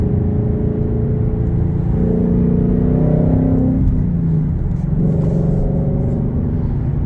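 A car engine revs and rumbles loudly as it passes nearby on a busy road toward the Beltway, a steady roar swelling and fading under constant traffic noise.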